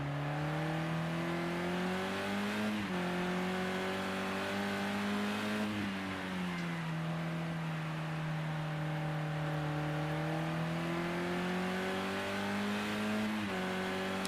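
Onboard a sim racing car on a lap of Silverstone, the engine drones continuously, pitch climbing through the gears with sharp drops at each upshift, steady and fairly quiet.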